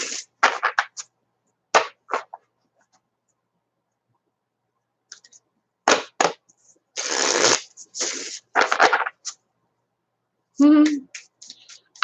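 Tarot cards shuffled close up in quick riffling bursts with gaps of silence between, plus a brief laugh near the end.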